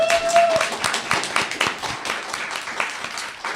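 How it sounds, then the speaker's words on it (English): A convention audience applauds a poetry contestant, a dense wash of clapping hands that starts loud and gradually thins and fades over a few seconds, with a faint tone early on. "So let's give him a round of applause for that as well."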